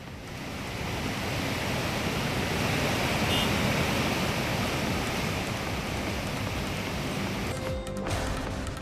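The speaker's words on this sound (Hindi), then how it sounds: "टिहरी के अधिकांश हिस्सों में लगातार हो रही भारी बारिश" Heavy monsoon rain pouring steadily in Tehri, a dense, unbroken hiss holding even and loud from start to finish, with a brief rustle near the end.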